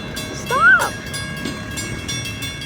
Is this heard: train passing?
yes